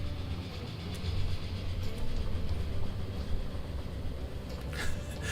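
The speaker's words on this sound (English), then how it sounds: "Train comes along." Train rumbling past in the video game Transport Fever 2, a steady rolling roar with faint rail clatter near the end, no talking.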